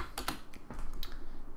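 Computer keyboard typing in a short burst, crisp key clicks spaced unevenly, close and fairly quiet, with no voices.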